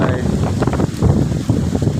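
Strong wind gusts across a temple grounds, roaring and buffeting the microphone with dense, low rumbling noise that surges and dips throughout, with a voice partly audible beneath it.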